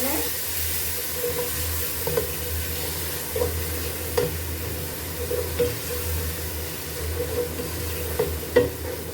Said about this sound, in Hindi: ऑयल सेपरेट होने तक हमने टमाटर और मसालों को अच्छे से पका लेना है।